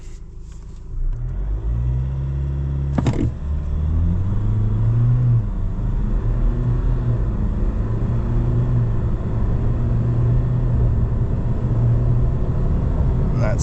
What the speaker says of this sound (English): In terms of 0 to 100, we'll just give it a quick test.